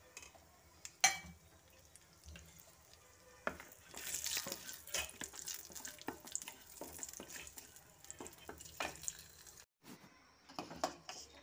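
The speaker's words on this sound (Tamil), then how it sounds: "திராட்சையை வந்து நம்ம வறுத்து எடுத்துக்கலாம்." Raisins fry in a pan with a faint, steady sizzle, broken by soft stirring scrapes and occasional clinks, all quiet and close with no voices.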